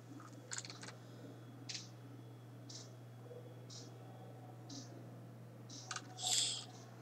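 Sharp mouse clicks on a computer land one at a time at irregular intervals over a quiet, steady electrical hum, with a slightly louder cluster of clicks near the end.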